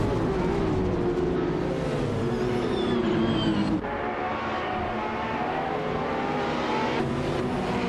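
A 1984 Audi Sport Quattro S1 E2 rally car races in a video game, its engine a loud sustained roar with rising whining tones, cutting off abruptly partway and giving way to a lower, steadier drone of surrounding cars.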